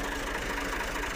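Tractor engine hauling a thresher rolls past nearby, a steady mid-pitched diesel drone with knocking vibration, loud and continuous, cutting off abruptly at the end.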